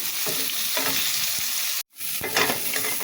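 Pumpkin bori lentil dumplings frying in a karahi, a loud steady sizzle broken by spatula scrapes and stirring knocks, with a momentary drop to silence partway through.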